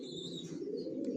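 Racing pigeons of the Johnson line cooing in a loft: a soft, continuous low cooing murmur with faint chirps, steady and close, no talking.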